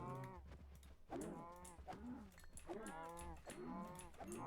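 Cattle in a modded video game moo several times in a row, each call long and drawn out, fairly near and quiet, with no talking over them.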